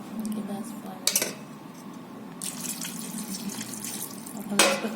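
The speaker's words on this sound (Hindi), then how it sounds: "गिलास इसमें पानी डाल देंगे" Water is poured from a glass into a cooking pot of mutton masala with ginger-garlic and oil, a soft splashing pour marked by a couple of sharp metallic clinks of utensils against the pot.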